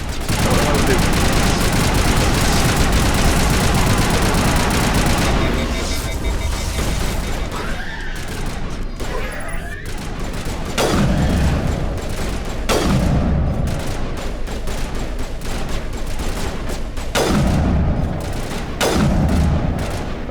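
Dense gunfire and bursts of shooting in the video game Mass Effect Legendary Edition, loud and sustained with several sharp louder shots standing out near the end, with a voice talking over parts of it.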